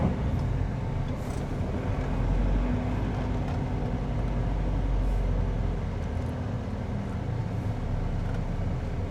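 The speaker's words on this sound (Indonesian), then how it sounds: "Iya, truknya jalan." Steady, dense rumble of traffic on a congested toll road from Surabaya to Malang, with a truck moving among cars, heard as continuous low engine and tyre noise without distinct breaks.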